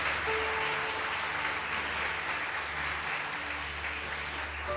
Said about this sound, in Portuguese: Você pode levantar as mãos e aplaudir aquele que é digno de toda adoração.